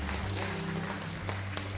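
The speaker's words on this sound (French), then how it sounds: "On applaudit le Seigneur." Congregation applauding during a French church sermon, a steady wash of clapping over a low sustained organ or keyboard drone, dense and fairly even throughout.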